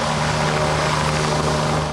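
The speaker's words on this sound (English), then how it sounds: "The sound of a helicopter flying overhead woke many people in this area." A police search helicopter flies overhead during a manhunt near a rural road, its rotor throbbing loud and steady with a constant engine drone, close and unbroken for the whole stretch, with no voices.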